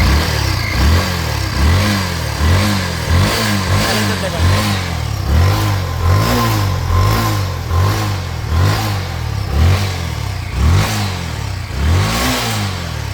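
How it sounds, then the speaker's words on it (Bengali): A Yamaha Fazer motorcycle engine with a recurring ECU fault runs close by, rising and falling in rhythmic revs about once a second throughout. "দেখেন গাড়িটা কিন্তু চালু হয়ে গেছে। এই যে কিন্তু গাড়ির সাউন্ড দেখেন"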